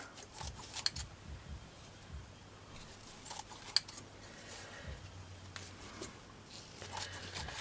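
Scissors snip through folded fabric being cut for flower appliques, giving a few faint, close, irregular crunching cuts with short pauses between them, in an otherwise quiet room.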